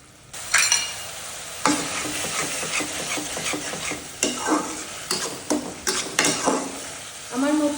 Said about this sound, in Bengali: এই মশলাটা খুব ভালোভাবে কষিয়ে তারপরে ডালটাকে কষিয়ে নিব